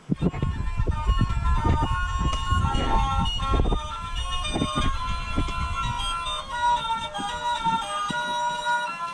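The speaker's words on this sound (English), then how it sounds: "Next, if it'll work, is the merry-go-round." A Lionel model merry-go-round ride runs with a tinkling mechanical tune and busy clicking and whirring from the toy mechanism, close and moderately loud, fading slightly toward the end.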